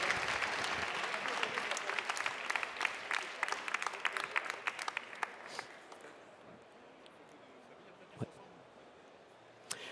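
At an awards ceremony, the audience claps for the prize winners. The applause is lively at first, thins out and fades after a few seconds, then leaves quiet room sound with a couple of stray claps, and talk runs alongside.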